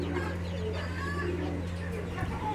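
Pigeons in a home bird collection coo in low, repeated calls beneath a steady mechanical hum, with faint background voices.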